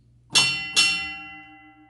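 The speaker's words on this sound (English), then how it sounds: "So it's 2 bells, pause, 5 bells, pause, and so on." A mine shaft signal bell used only for display on the surface, struck twice with bright metallic clangs about half a second apart, each ringing on and slowly fading.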